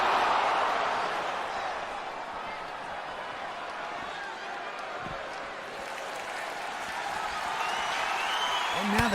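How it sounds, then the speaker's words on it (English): Video game arena crowd during a WWE 2K20 hardcore title wrestling match, a steady broad roar of cheering and clapping that swells at the end, with commentary talk running over it. "And now the crowd liking this impromptu hardcore title match."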